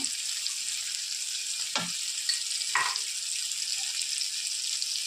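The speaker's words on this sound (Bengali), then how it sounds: "টমেটোটা ভালো মতো কষিয়ে নেবো" Tomatoes sautéing in a pan for a cauliflower curry, a steady close sizzle with a couple of soft scrapes from a stirring utensil, no speech.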